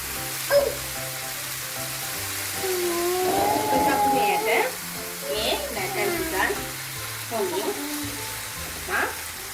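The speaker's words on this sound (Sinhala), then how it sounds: "carrot, green peas ටික දාලා හොඳින් මිශ්‍ර කරගන්න ඕනේ." Carrots and green peas sizzling and frying in a pan as they are stirred, with close scraping of the utensil and steady crackling under a voice speaking.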